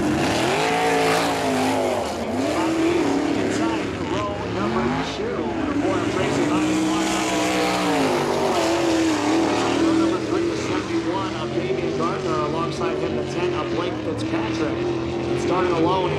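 USAC non-wing sprint cars roar around a dirt oval in a heat race, a loud continuous pack of engines rising and falling as they pass, with an announcer's voice faintly underneath.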